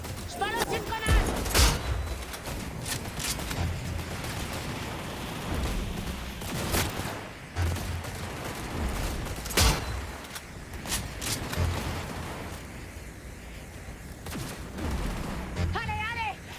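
Cyberpunk 2077 Phantom Liberty gunfire crackles in repeated bursts and single sharp shots across a busy battle soundscape, loud and close, with voices shouting over the action.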